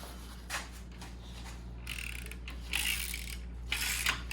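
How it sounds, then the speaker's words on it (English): A Honda K24 engine crankshaft being turned over by hand during a teardown for an engine knock, giving faint, soft mechanical clicks and ratcheting scrapes in short bursts against a low hum, with no talk. "Crank spins over as free as can be."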